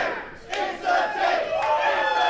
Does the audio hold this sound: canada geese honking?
no